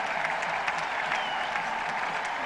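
A packed crowd at a 1976 England versus West Indies test cricket match applauds and cheers a six, a steady, dense wash of clapping and shouting from a large stadium audience that holds even throughout.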